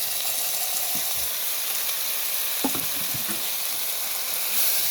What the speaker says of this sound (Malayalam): തക്കാളി 2-3 മിനിറ്റ് ഒന്ന് നല്ല വാട്ടണം